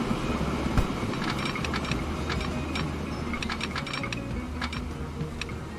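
A train runs on a rail line in the Transport Fever 2 video game: a steady low rumble with light ticking, clicking wheel sounds over the track, continuous and fairly close, with no talk.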